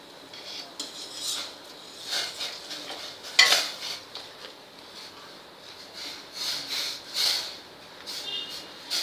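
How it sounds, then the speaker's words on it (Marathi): Wheat starch for kurdai stirred in a pot of boiling water, a spoon scraping and clinking against the pot in repeated strokes with a sharper knock partway through, close and moderately loud. "आपल्याला हे सत्व घालून एका साईडने हलवत राहायचं आहे कंटिन्यू"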